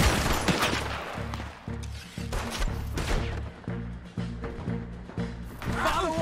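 Gunfire in a Red Dead Redemption 2 firefight, loud repeated shots and rapid bursts in an uneven rhythm, with game voices shouting between them.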